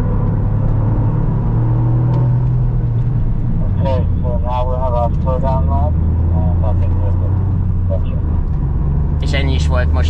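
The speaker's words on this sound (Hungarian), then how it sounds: "És ennyi is volt most a gyorsabb autózás itt a kéziváltós kivitellel." Toyota GR Yaris with a manual gearbox driven hard, its engine a steady loud rumble beneath continuous in-car talk.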